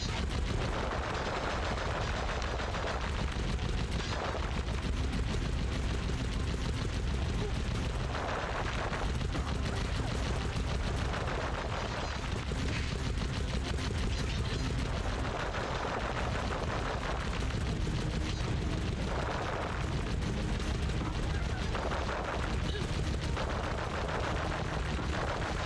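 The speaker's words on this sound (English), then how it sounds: "Gotta mow down enemies with my gun." Dense, continuous gunfire from the Sly Cooper video game, with rapid overlapping shots and booming bursts that keep the mix loud and busy throughout and leave no quiet gaps.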